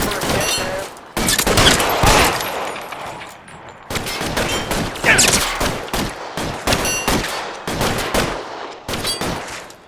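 Gunfire in the 1940s detective game L.A. Noire, with bursts of loud, close shots in rapid volleys broken by brief pauses, continuing throughout.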